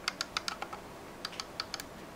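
Clicking of the scroll wheel on a Logitech M705 mouse, a quick series of sharp, light ticks in two bursts, close and fairly quiet with no talking.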